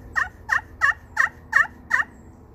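Six evenly spaced, sharp clucks from a slate turkey call played with a snakewood and acrylic striker, crisp and close, repeating at a steady rhythm against quiet background.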